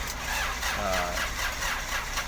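A Hino 300 truck's diesel engine, repaired after an overheat damaged its cylinder liner and piston, catches and starts into a low, rough rumble under steady mechanical noise.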